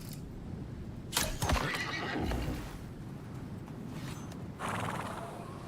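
A horse in the survival video game Icarus whinnies loudly over a rumbling ambient bed, with a stamping clatter of hooves and a second fainter whinny near the end.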